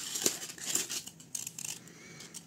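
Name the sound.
cutting a thermocol sheet for a temple-model gate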